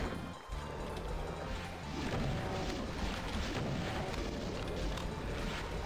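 Rocket explosions in the Doom mod DBP54 played on Ultraviolence, a loud, dense run of booming blasts and crashing impacts that fill the whole stretch with little pause, layered over game noise.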